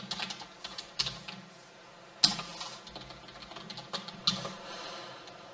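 Someone types HTML code on a computer keyboard, a steady patter of close key presses broken by a few sharper, louder strikes, with no voices.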